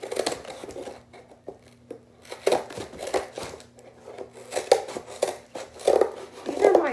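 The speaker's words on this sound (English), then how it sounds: "Sewing scissors, so they're not really meant to be cutting paper, but that seems to be pretty good." Sewing scissors snip through a stiff cardboard box flap in a series of short crunchy cuts, fairly close and quiet, with crinkling sounds between strokes.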